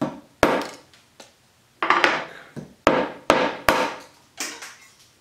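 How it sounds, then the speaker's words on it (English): Resin-cast hammer striking a nail into wood: a series of about eight sharp, loud whacks at uneven intervals, each ringing briefly before the next, with no talking. "we'll see if we even get past the first whack here"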